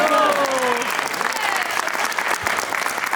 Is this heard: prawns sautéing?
no